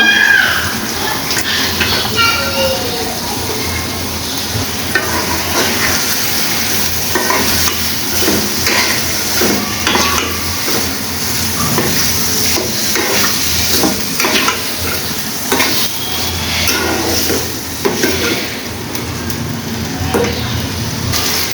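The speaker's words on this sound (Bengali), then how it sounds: "এখন এই মশলাটার সাথে আমি আলুগুলি কষিয়ে নিব" Potatoes fry with spices in an oiled pan, a continuous sizzle broken by frequent scraping strokes of a spoon stirring them, close and fairly loud throughout.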